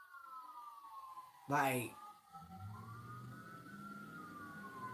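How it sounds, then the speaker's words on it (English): Emergency vehicle sirens wail outside as a faint, distant, rising and falling tone. A person talks over them, and a sudden loud burst interrupts midway. "Hear the sirens?"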